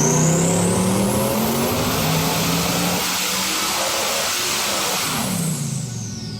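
A 2,000 hp Coyote-powered Mustang street car accelerates hard, its engine roaring loud and close with rising pitch sweeps as it climbs through the gears, steady and uninterrupted.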